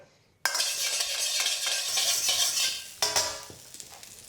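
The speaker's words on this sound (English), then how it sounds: "A swirl of oil. Just swirl that around your wok." Oil swirled around a hot wok bursts into a sudden loud sizzle that hisses steadily, then a metallic clank and a fresh flare of sizzling that fades off.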